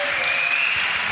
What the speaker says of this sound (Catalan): Un aplaudiment per la Sara i el seu pare.